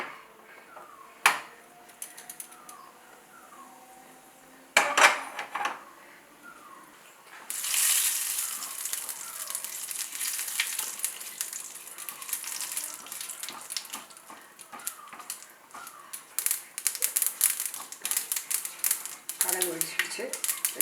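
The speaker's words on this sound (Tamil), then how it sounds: "கடுகு வெடிச்சிடுச்சு." Mustard seeds and cumin spluttering in hot ghee for a rasam tempering, a steady crackle with scattered sharp pops that grows denser after the first few seconds, with a person talking at times.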